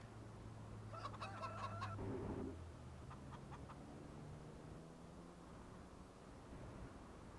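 Chickens cluck and honk in a Farming Simulator 25 barnyard: a burst of several stacked calls near the start, a shorter cluster a moment later, then steady low machinery hum and ambient game noise alone.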